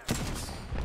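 Turret gunfire in Apex Legends comes as a short, dense burst of rapid shots, loud and close, lasting under a second.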